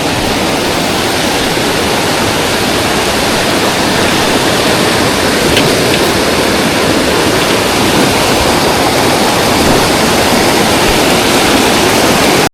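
Rushing high water at a river crossing on a northern British Columbia trail in spring, a loud, steady broadband roar of fast-flowing water that fills the whole stretch without pause.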